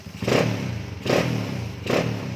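A Honda Wave 125 motorcycle with a freshly assembled carburetor revs in three rhythmic bursts, each throttle blip rising then easing back to idle, close and loud with no talk.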